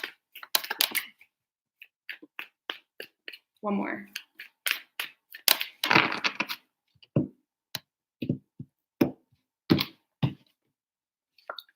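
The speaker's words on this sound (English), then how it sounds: "3 shuffles for Sagittarius," Tarot cards are shuffled in a series of short, crisp riffling and tapping bursts separated by pauses, close and clear, with a voice speaking briefly between them.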